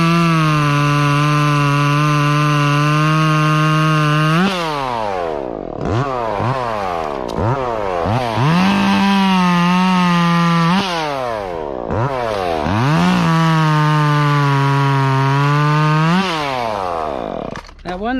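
A chainsaw cuts tree limbs at close range, held at a high idle. Its engine loudly revs up, sags as the chain bogs in the wood, then climbs again in repeated cycles.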